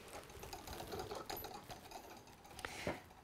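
Overlocker sewing machine running in a home sewing setup, a fast continuous mechanical whirr with stitching rattle for about three seconds and a brief burst of speed near the end, with no talking.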